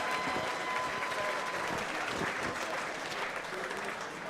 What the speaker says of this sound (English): let's have a big round of applause for both of the fighters in this cage